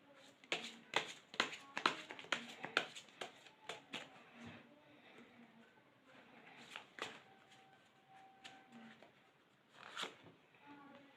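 A deck of tarot cards is riffled and shuffled in quick flurries of crisp flapping snaps, then comes a quieter stretch and one final burst. The sound is faint and close.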